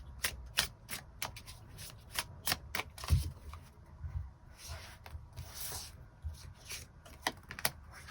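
Tarot cards being shuffled by hand in a steady run of crisp riffling bursts and soft slides, close and continuous throughout.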